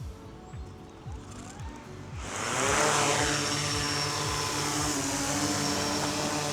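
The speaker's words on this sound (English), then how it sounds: "Ready to take off. I'm half a meter away from it." A DJI Mavic 4 Pro drone lifts off about half a meter away, its propellers spinning up from ticking starter pulses into a loud, steady, close whirring hum that holds on alone.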